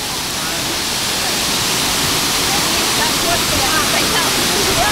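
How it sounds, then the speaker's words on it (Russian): Loud, steady roar of a waterfall in Crimea pounding onto rocks, a dense continuous rush of water filling the whole clip up close. "Представьте, с какой силой вода бьется о камни."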